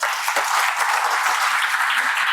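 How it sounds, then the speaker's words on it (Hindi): A short burst of steady clapping from a group, continuous and fairly loud for a couple of seconds. "सर के लिए तालियां हो जाए।"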